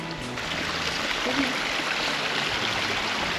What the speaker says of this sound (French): Une petite cascade là.